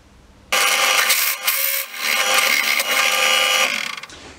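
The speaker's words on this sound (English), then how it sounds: "I'm going to drill that out" A loud, harsh power drill grinds steadily through a metal bench grinder flange for several seconds, with a brief dip in the middle before it winds down.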